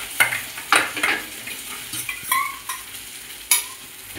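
Turmeric and chili powder frying in a pan for a vegetarian pointed gourd curry: a soft continuous sizzle with several sharp spoon scrapes and stirring clatters spaced through it, close up with no voices.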